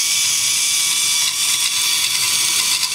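A gear train built from Lego and K'nex parts spins at about 2400 RPM, giving a loud, steady high-pitched mechanical whine with a fine ratcheting buzz throughout.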